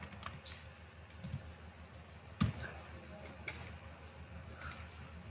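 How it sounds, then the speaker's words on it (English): Light typing on a computer keyboard while entering code, soft rapid key clicks with one sharper tap near the middle, quiet and close in an otherwise still room. "Again I am typing print x without calling function."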